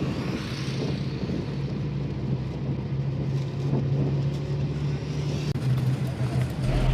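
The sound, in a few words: bus driving on national highway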